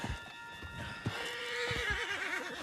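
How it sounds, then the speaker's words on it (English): A horse in the video game Red Dead Redemption 2 whinnies loudly with a long wavering neigh, hooves clopping faintly beneath, close and clear. "Put Strauss on the back of John's horse"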